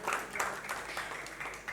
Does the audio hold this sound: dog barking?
no